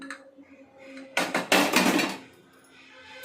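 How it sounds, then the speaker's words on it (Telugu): A metallic pressure cooker lid clanks and scrapes loose while cooking mutton with raw mango, a couple of sharp bangs followed by a brief rattling clatter, close by in a quiet room. "ఇప్పుడు మనం మూత తీసుకుందాం"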